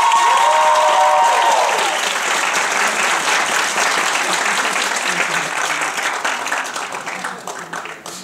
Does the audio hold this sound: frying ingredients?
no